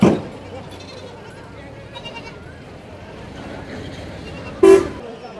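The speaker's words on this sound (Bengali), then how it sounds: "দলে দলে ছাগল নিয়ে ওনারা হাটে প্রবেশ করতেছে" A busy outdoor goat market in Kalampur with a low crowd murmur, punctuated by a couple of loud goat bleats, one right at the start and another near the end.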